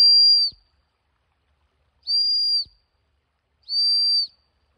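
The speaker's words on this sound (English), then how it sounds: "A whistle was given to me" A handheld whistle is blown outdoors three times, each a loud steady high-pitched blast about half a second long, separated by silent pauses.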